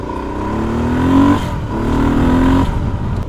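A Honda XR motorcycle engine pulls steadily while riding on the road, a loud, close, continuous drone with two rising surges as it accelerates through the gears and settles into a cruise.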